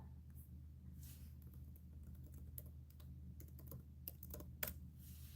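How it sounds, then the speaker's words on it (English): Rapid typing on a computer keyboard, with irregular bursts of clicky keystrokes over a steady low hum, close and fairly quiet, no voices. "I'm typing away here"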